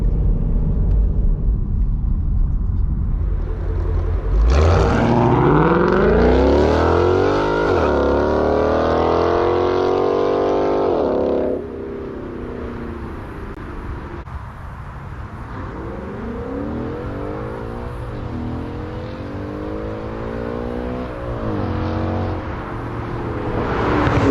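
A deep, rumbling V8 exhaust from a 2017 Ford Mustang GT with a Corsa Xtreme catback roars through a hard acceleration, sweeping up in pitch, then drops to a lower drone that rises again.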